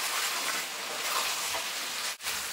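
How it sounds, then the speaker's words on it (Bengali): Jackfruit and chicken curry sizzling and frying steadily in a pan, a continuous close hiss with a brief dip near the end as it is stirred. "এঁচড় দিয়ে আমি কষিয়ে নিচ্ছি যাতে মশলাটা ভালোভাবে যায় এঁচড়ের ভেতর"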